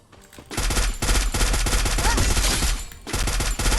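Rapid automatic FAMAS rifle fire in a video game, loud bursts of rattling shots running almost continuously, with a brief gap near the start and another near the end.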